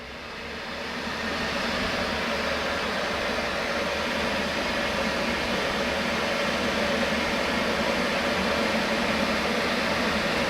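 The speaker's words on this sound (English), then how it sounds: "So right now both of them is boiling, if you guys can hear and see." Two Govee Life smart electric kettles boil side by side, giving a steady, loud, broadband rushing roar that builds in the first second and then holds evenly throughout, with no talking.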